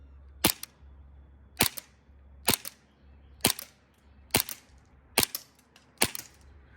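Seven sharp, muffled pops from a USHOT TP22 all-polymer airsoft pistol, fired one at a time at an even pace with short gaps between, close and clear against a quiet background.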